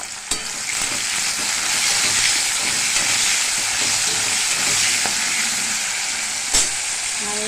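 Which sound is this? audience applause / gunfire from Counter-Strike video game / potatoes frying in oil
potatoes frying in oil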